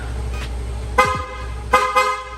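Three short honks from a Yamaha Mio i scooter horn, close and loud, over a steady low engine idle.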